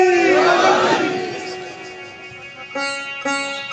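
A crowd at a religious gathering shouts slogans in unison, a loud sustained massed cry that fades, then two short sharp chanted bursts follow.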